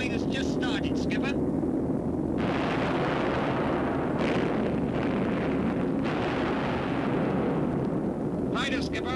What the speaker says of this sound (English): Main force bombing has just started, Skipper.